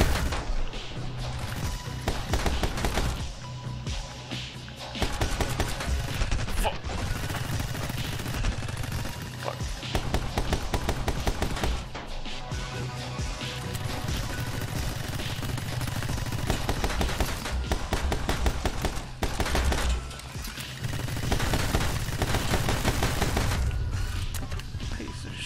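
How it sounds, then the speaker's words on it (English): Gatling gun firing in the action game My Friend Pedro, a dense, sustained clatter of rapid shots mixed with crashes and booms over a steady loud backdrop. "Gatling gun, how could it? How could it just shoot me so much?"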